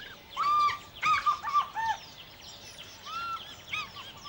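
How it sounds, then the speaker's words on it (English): A fish eagle gives a series of loud, ringing squawking calls, several sharp bursts in quick succession, followed by a few fainter calls against quiet outdoor background. "A fish eagle who happens to see a friend flying overhead squawks out a very big"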